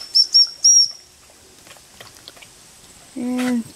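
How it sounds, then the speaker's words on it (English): A whistle blown to call a dog in the woods beside water: three short, shrill blasts close by, followed later by a brief lower tonal sound. "And Tiger's coming for the whistle somewhere"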